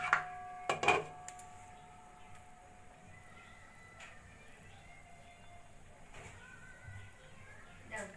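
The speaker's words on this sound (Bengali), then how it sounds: "এবার আমি ঢাকাটা তুলে চেক করে নেব।" A lid is lifted off a cake pan on a gas stove: a couple of sharp, close metallic clanks and rattles in the first second, then a faint steady hiss with a soft clink near the end.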